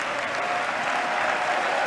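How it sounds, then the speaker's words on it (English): Audience at a political speech applauding steadily, a dense, even wash of clapping with some cheering mixed in, loud and continuous throughout. "Man, everybody's cheering for that."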